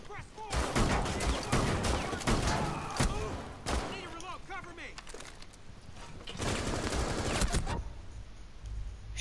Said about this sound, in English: Yep, enemy fire, that is.